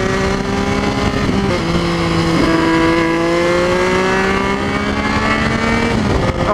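A Triumph Street Triple and a Ducati 959 Panigale ride through Bath, engines droning loud and close throughout with revs rising and falling between gear changes.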